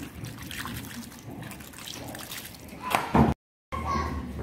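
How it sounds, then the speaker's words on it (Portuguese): Ice-cold water poured over cut potatoes in a home kitchen, a steady trickling and splashing that swells near the end before a brief cutoff, with a voice talking underneath. "Novamente colocamos outra água gelada."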